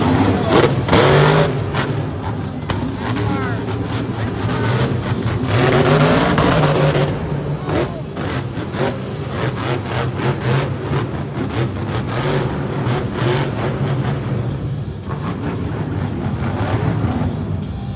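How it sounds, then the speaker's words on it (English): A Monster Jam truck engine roars and revs harshly at an arena event in St. Louis, loud and sustained with uneven surges, crowd-like noise faintly underneath. "The engine on that Monster Jam truck over there just running a bit harsh."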